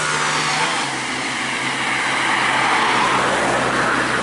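A Volvo B11R intercity coach on a highway rushes past with a broad whoosh of tyre and engine noise, building toward the end as it nears, loud and close, with no voices.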